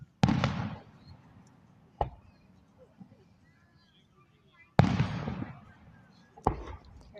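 Fireworks burst at a fireworks show, two big booms each followed by crackling decay and a couple of sharper single pops between, with people talking quietly in the crowd.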